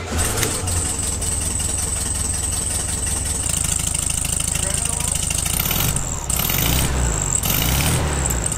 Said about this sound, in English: Air-cooled beetles have this really distinctive little chirping noise, and they pretty much all have it, at least from the factory.